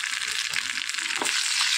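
Garlic and tempering spices frying in two tablespoons of oil for a lentil soup, a steady hissing sizzle close up with a faint clink partway through, no talking.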